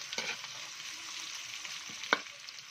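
Onion, garlic and ginger sautéing in a pan give a steady, fairly quiet sizzle with a few light stirring scrapes, one sharper clack near the end, and no talking.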